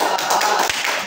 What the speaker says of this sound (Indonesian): Boleh tepuk tangan untuk Hafiz